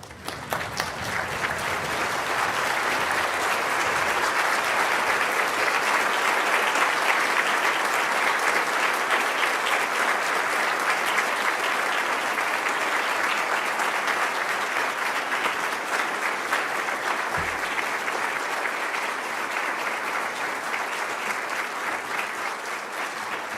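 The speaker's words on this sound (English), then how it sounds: "give a round of applause for your senior officers of the University of Liverpool" Standing graduation audience at a University of Liverpool ceremony giving a long, steady round of applause for the university's senior officers, dense even clapping filling the hall throughout.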